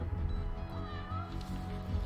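A cat meows once, faint and brief, inside a video game trailer, under a low musical bed.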